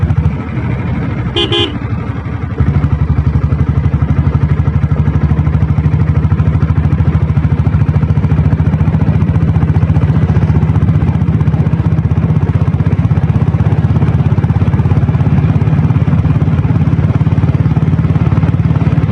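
A diesel Royal Enfield Bullet motorcycle engine runs close and loud with a steady, low thumping drone. A brief horn toot sounds near the start.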